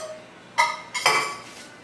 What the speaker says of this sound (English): You need a whisk just to keep that moving along.